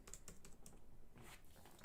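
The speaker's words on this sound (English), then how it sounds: "sorry, guys, I'm typing." Rapid keystrokes typed on a computer keyboard, a steady run of close, crisp clicks lasting a couple of seconds with no voices.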